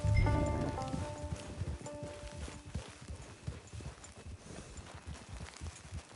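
Horse hooves clip-clop at a steady walking pace in the Western video game Red Dead Online, close and clear, with a short musical tone fading out at the start.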